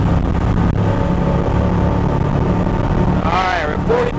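A big offshore boat's engine pushes hard on a high-speed run, a loud steady roar with wind and water rush, and someone talks over it near the end.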